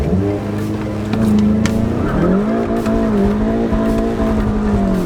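A Volkswagen Golf GTI with traction control switched off spins its wheels in third gear, the engine note climbing and holding steady with a tire squeal layered over it, loud and close, with no talking.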